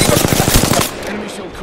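Rapid automatic gunfire in a video game rattles out in a fast burst of about a dozen close, loud shots lasting under a second, followed by quieter ambient noise.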